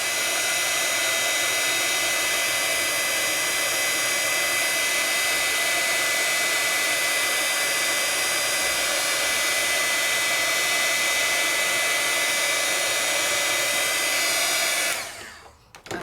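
Heat embossing tool blowing hot air over a handmade card, a steady loud whirring hiss that holds constant for about fifteen seconds before switching off abruptly.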